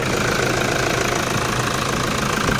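A Toyota Fortuner diesel engine with a large-bore turbo idles with a knocking fault, giving a loud, steady, close rattling clatter that runs unbroken with no voices.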